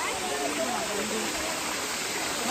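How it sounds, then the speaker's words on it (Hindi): Stream water flowing between and under rocks above a waterfall on a trek, a continuous broad rushing wash close by, with a person talking over it. "ये पूरा पानी देख रहे हैं ना आप, पत्थरों के नीचे से जा रहा है"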